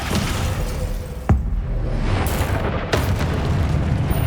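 A Descendo spell cast in Hogwarts Legacy, heard as a loud booming impact over a dense, rumbling game soundscape, followed by a second burst a little over a second later.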